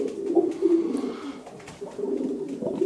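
A breeding male racing pigeon cooing close by, soft throaty coos rising and falling in two phrases with brief pauses between.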